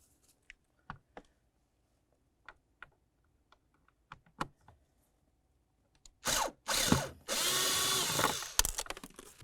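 A screw being removed from the blower motor of a 2004-2006 Scion xB, scattered light clicks and taps followed by a close, loud burst of whirring power-driver spin with several short runs.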